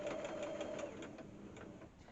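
A sewing machine takes a few stitches through a Mini Lone Star quilt, a brief close mechanical whir with fast, even needle ticks that fades slightly toward the end, with no talk.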